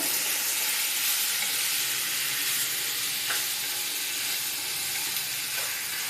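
Tomatoes sautéing with a little salt in a hot pan give a steady, loud, unbroken sizzle and hiss from start to finish, with no voices over it.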